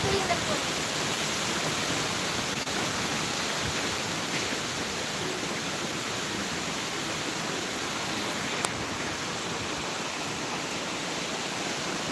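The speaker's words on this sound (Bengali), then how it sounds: "এত জোরে বৃষ্টি হচ্ছে প্রচুর হাওয়া দিয়েছে" During Cyclone Remal in South Kolkata, heavy rain and strong wind make a dense, steady roar that stays loud and unbroken for the whole stretch, with a single faint click partway through.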